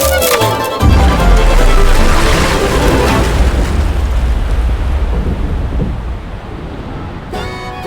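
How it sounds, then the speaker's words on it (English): A staged tower explosion effect on the Fire in the Hole indoor coaster at Silver Dollar City, heard as a loud deep boom that rolls into a long, sustained rumble and roar filling the space, with no talking over it. "Tower's gonna blow! Fire in the hole!"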